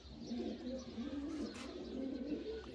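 Pigeons coo in a low, steady murmur at a pigeon-flying tournament in Amra Kalan, a soft continuous throaty burble that is fairly faint and without speech.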